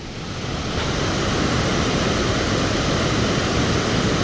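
A waterfall near Madikeri roars as a steady, dense wash of rushing water, loud and close, holding level from start to finish with no voices.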